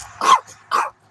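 A small dog barks twice, close and sharp, with a short pause between the two barks and a quiet background.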